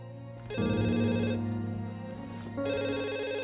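An old telephone bell rings in two long bursts with a brief pause between them, loud and close, with no voices over it.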